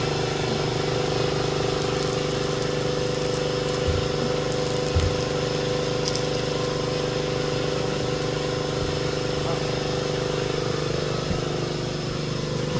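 A 2024 Tiffin Wayfarer 25RW motorhome's engine idles steadily after the ignition comes on, a continuous low throbbing rumble with a few brief knocks, close and alone throughout.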